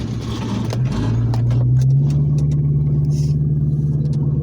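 A loud, close engine rumble and rising rev come from a 1998 GT with its original 318,000-mile 4.6 V8 and a new supercharger, set up for a drag strip run in Kentucky.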